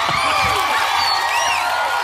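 Loud, dense cheering and whooping from a TV special audience, many voices shouting together at close range, with no pauses.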